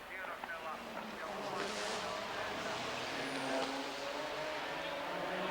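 A Porsche 911 GT2 race car pulls into the pits during a 1997 FIA GT race at Helsinki, its engine a steady mid-distance drone. Commentary runs over it throughout.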